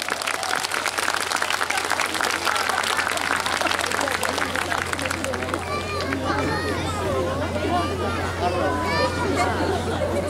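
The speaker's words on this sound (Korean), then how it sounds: "자, 박수 한번 주세요." A concert audience at a 2016 show applauds in a dense, steady wash of clapping that runs through the clip, with voices and chatter rising over it in the second half.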